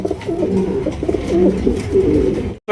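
Chila pigeons kept for sale coo continuously nearby, soft rolling calls overlapping in a steady low burble, ending in a brief sudden cut.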